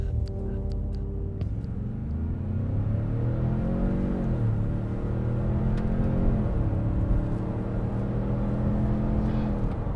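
A 2020 Ford Expedition King Ranch SUV with a 3.5-liter EcoBoost V6 accelerates hard, its steady, loud engine drone climbing in pitch and dipping once at a gear shift, heard from inside the cabin with no talking.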